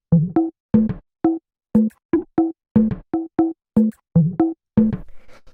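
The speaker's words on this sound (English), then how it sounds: "these are just these little sort of like bongo sounds I've got playing off of each other" Bongo-like percussion samples in a deep house track, short pitched hand-drum hits playing off each other in a syncopated pattern, dry and close with gaps of silence between hits.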